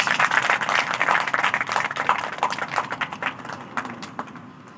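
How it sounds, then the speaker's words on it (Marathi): An audience claps on request during a stage monologue, a scattered burst of applause that starts dense and thins out over several seconds into a few separate claps. "एकदा टाळ्या वाजवा ऐकायचं"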